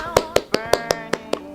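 Eight evenly spaced claps make up the UCLA Bruins eight-clap cheer, crisp and close and keeping a steady quick rhythm, with a faint tone humming underneath.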